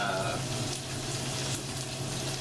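New York strip steak sizzling in a cast iron skillet: a steady, dense hiss and crackle of frying fat, close and continuous throughout, with a low background hum.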